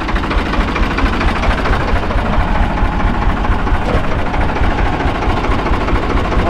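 A Farmtrac 60 tractor with a seven-tine plough, its diesel engine running loud and close in a continuous rough, knocking drone that holds steady throughout.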